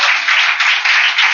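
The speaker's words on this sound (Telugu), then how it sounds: "చప్పట్లు కూడా స్తోత్రం చెప్పండి." A church congregation claps together in praise during a Sunday worship service, a dense, continuous burst of applause in short pulsing swells, close and loud.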